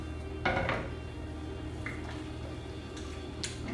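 Tupperware containers and dishes handled in a kitchen while pasta and meatloaf are portioned out, with a few clinking knocks near the start and light taps later over a steady background hum.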